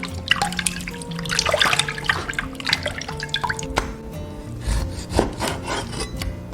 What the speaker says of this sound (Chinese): 首先我们把牛肉清洗干净